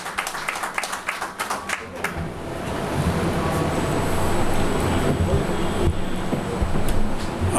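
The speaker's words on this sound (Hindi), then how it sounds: "तालियां बजा करके स्वागत करेंगे" A crowd at a birthday and honour ceremony breaks into welcoming applause. A speaking voice is heard first, then broad clapping swells and holds steady to the end.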